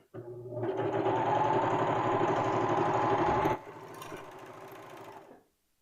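A serger runs steadily at high speed stitching a seam on T-shirt knit fabric, a dense mechanical whir that drops to a lighter hum before stopping.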